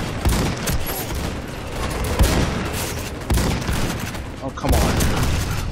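Dense, sustained turret gunfire from the video game Warface rattles on without a break, punctuated by louder bursts, with a player's brief voice over the top.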